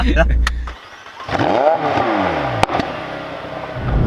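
A McLaren 720S engine revs hard, its pitch sweeping up and dropping back as it shifts quickly through gears, loud and close with a sharp crack partway through.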